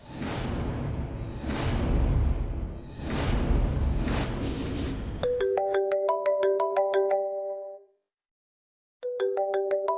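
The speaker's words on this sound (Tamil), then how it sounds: "ஃபோன் ரொம்ப நேரமா அடிச்சிட்டு இருக்கு." A mobile phone ringtone plays a bright repeating electronic melody after a few soft whooshing sounds, pausing briefly before starting again, loud and near with no talking.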